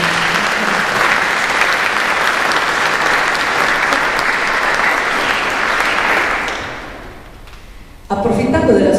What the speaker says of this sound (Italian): un applauso glielo tributiamo